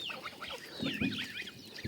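Chickens and geese on a farmyard give a brief burst of close honking and clucking calls, several birds overlapping.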